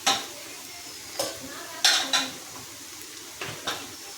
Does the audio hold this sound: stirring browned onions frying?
yes